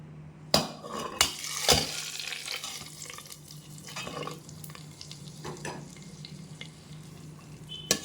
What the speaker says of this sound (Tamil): இப்போ நம்ம அந்த தாளிப்பை கொட்டிக்கலாம்.